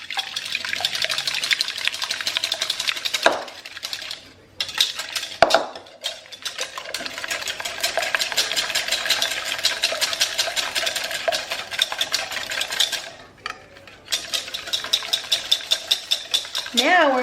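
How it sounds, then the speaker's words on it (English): Two eggs whisked in a bowl for carrot cake batter, a fast continuous rattling of whisk against the bowl that pauses briefly a few times before resuming, close and loud. "we're going to crack our eggs and we're going to whisk them"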